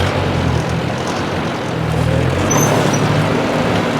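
A 1964 Ford 4000 gas farm tractor with a 62 hp engine drives along with a steady low rumble, its pitch dipping and recovering as it slows and brakes to a stop.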